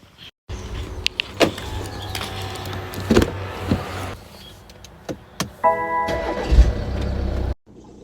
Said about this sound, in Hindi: तो मैं फटाफट गाड़ी स्टार्ट करूँगी और गाड़ी जितनी देर में गर्म होगी